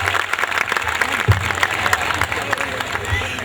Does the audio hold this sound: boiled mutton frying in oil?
no